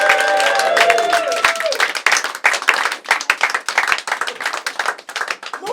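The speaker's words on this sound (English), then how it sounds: "keep the applause going to your final act this evening" Audience at a Brighton comedy show claps and cheers as comedian Nick Helm is brought on as the final act, with loud, rhythmic clapping rising under a voice talking at the start.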